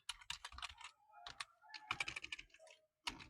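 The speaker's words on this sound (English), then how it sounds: "you go to search bar where you can type" Keystrokes on a computer keyboard come in quick irregular bursts while text is entered into a search bar, close and clear, with a short pause before a final few taps and no talking.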